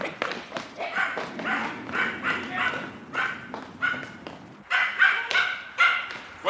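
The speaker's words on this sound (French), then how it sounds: "c'est notre ami Raskar Kapak qui a effrayé votre chien" A dog in a Tintin cartoon, Les Sept Boules de cristal, barks repeatedly in short, loud, excited bursts with yips and whimpers, sounding close and with no talk.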